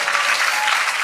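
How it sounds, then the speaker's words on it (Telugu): A church congregation claps loudly together, a dense, continuous burst of applause filling the room at close range with no pauses. "ఒకసారి గట్టిగా చప్పట్లు కొట్టండి."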